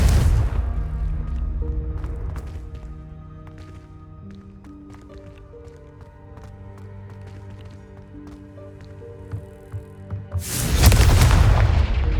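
A Confringo fire spell explosion in the video game Hogwarts Legacy bursts loudly near the end, a heavy boom after a long stretch of sustained musical tones.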